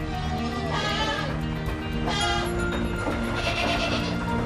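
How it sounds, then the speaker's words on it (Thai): A herd of goats on a Thai goat farm, let out to graze on leucaena, bleats continuously. Many overlapping calls sound loud and near against a constant, dense background. "ปล่อยแพะลงมากินกระถิน"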